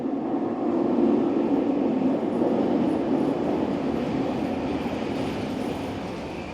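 A Vancouver SkyTrain Millennium Line train rolls past close by, a steady loud rumbling drone that holds for several seconds and eases off slightly toward the end.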